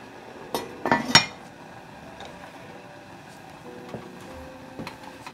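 Metal lid set onto a soup pot on the stove, a few quick clanks and clinks close by near the start, then quiet kitchen background with faint later clinks.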